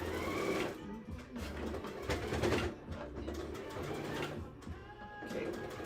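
Sewing machine back stitching a seam, a steady mechanical whir with short stop-start pauses, close and moderately loud, with some faint background noise.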